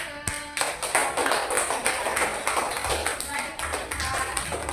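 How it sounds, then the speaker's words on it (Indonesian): Steady applause from a group in a classroom during a teaching assessment, a dense patter of claps lasting several seconds with a voice briefly audible over it. "tepuk tangan untuk"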